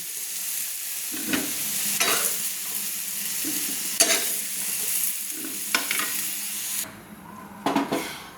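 Potatoes frying in oil in a wok: a steady sizzling hiss with clinks of a spoon scraping and stirring at irregular moments, close and fairly loud, the sizzle dropping away near the end.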